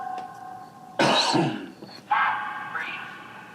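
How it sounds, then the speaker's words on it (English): A person coughs at close range, two harsh separate bursts with a short gap between them, the second a little weaker and raspy, like a throat being cleared. "your cough scared me for a second"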